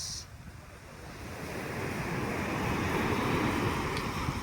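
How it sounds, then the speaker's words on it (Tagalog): Strong ocean waves rolling onto Kite Beach in Dubai before dawn, a broad continuous surf roar that swells louder after the first second, with some wind buffeting the microphone and no voices. "Malakas pa talaga ang alon."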